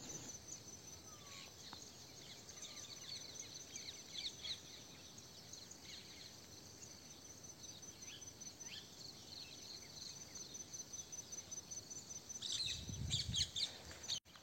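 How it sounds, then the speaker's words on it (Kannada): Scattered bird chirps on a farm at sunrise sit over a constant high cricket and insect drone, with soft outdoor ambience and a brief low rumble near the end; no one speaks. "ಇಲ್ಲಿ ಹಕ್ಕಿಗಳ ಚಿಲಿಪಿಲಿ ಕೇಳ್ರಪ್ಪ,"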